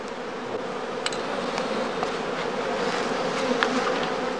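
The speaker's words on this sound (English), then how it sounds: "the beekeeper waits for the second swarms, or casts, to emerge from the skeps" Honeybees hum in a dense continuous buzz as swarms emerge from heather skeps at an outdoor apiary during swarming season, steady and close with no talk.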